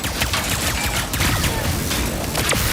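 The Enforcer double-barrel weapon in Ratchet & Clank: Rift Apart fires a rapid-fire spread in quick repeated bursts. The shots sit in a loud, dense stream of impacts and clattering game action.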